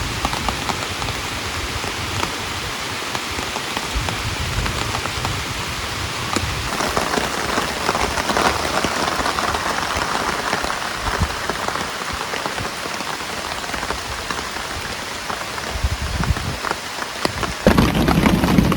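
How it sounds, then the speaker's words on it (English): Steady rain falling on a camping hammock shelter outdoors, a dense continuous patter of drops close by, loud and even throughout with a faint distant rumble of thunder and no talking. "it's raining out right now if you can hear it"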